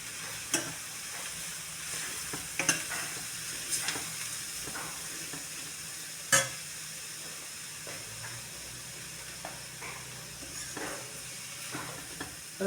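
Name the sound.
stirring coconut and turmeric in a frying pan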